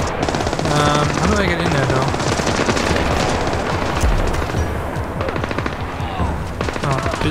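Sustained automatic gunfire rattles loud and continuous throughout a firefight in the stealth action game Splinter Cell: Blacklist, set in a snowy area, with someone talking over the shooting.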